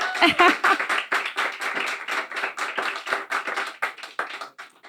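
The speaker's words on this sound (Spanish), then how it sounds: "Os voy a pedir un fuerte aplauso para Héctor." An audience gives Héctor a strong round of applause at an interview event, with dense, lively clapping that starts loud and slowly thins out over several seconds.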